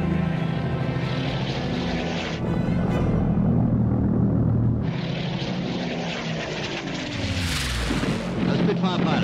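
A Spitfire fighter plane in wartime combat footage, its propeller engine roaring steadily and loudly throughout, with a dense burst of gunfire rattle layered into the engine noise.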